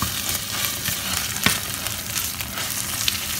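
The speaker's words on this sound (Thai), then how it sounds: "ก็เอาแกงลงไปผัด" Thai curry paste sizzles and crackles as it is stir-fried in coconut oil separated from coconut cream for a pork curry, a steady dense frying hiss with occasional scraping stir clicks, close and alone.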